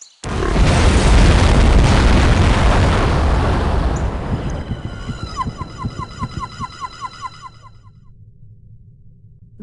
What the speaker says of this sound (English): there was an explosion of unknown origin in the town of Shilling, England